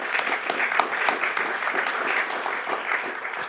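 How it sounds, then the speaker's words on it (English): Steady applause from a forum audience for round table panelists, moderately loud and continuous, with a few sharper individual claps standing out from the dense crowd clapping. "I would say including an applause for all the panelists of this round table"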